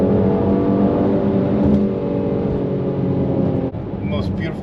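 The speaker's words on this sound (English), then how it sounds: "As soon as you give it the beans, it just goes and you hear that growl of the engine popping." A Mercedes GLC 43 AMG growls hard under acceleration, its engine note loud and sustained close by, with a brief pop near the end as it holds gear.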